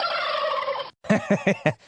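A turkey gobbles in a news jingle: a sustained tonal gobble, then a pause and four rapid loud gobbling bursts, close and clear with no talk.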